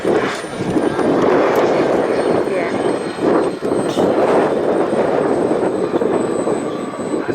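A steady droning model aircraft engine roars continuously nearby, rising and falling slightly as it passes, at a model air show, with a voice talking over it.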